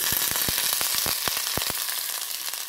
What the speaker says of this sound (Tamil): இதை நான் இப்போ போட்டுறேன் இதில்